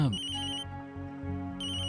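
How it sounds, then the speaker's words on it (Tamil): Phone ringtone for an incoming call, a bright repeating electronic melody playing close and clear with no talk over it. "அக்கா தான் ஃபோன் பண்றாங்க."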